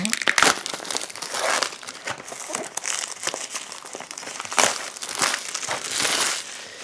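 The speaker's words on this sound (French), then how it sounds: "ces boîtes qui sont toujours super faciles à ouvrir" Cardboard and plastic wrap of a Magic: The Gathering Innistrad display box crinkle and tear in bursts close by, with a voice talking between the sounds.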